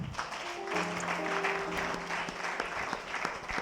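A church congregation applauds and cheers in acclamation, steady clapping filling the room with a few sustained tones underneath, moderately loud throughout.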